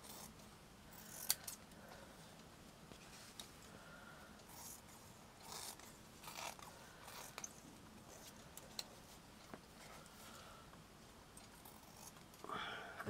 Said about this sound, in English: I'm just going to cut it into a circle.